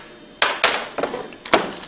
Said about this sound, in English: give it a good rap with a hammer